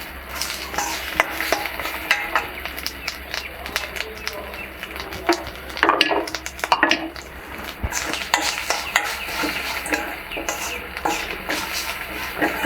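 Red chillies, coriander seeds, cumin and coconut dry-roasting in a pan for a tamarind curry, with steady stirring scrapes and faint sizzle, utensil clinks on the pan, and a voice talking over the cooking throughout.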